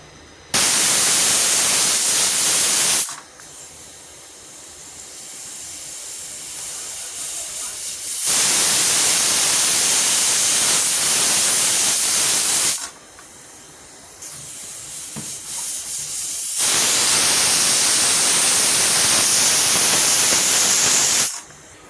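A pressure cooker hissing steam as dal and potato cook: long loud bursts of steady hiss alternating with quieter stretches, close and without talk.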